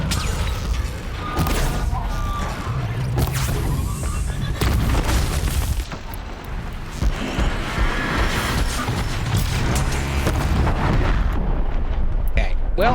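Heavy cannon fire from a Ravager machine in the Horizon Zero Dawn video game, loud repeated booming blasts and mechanical clatter throughout a dense battle mix, with a voice talking over it.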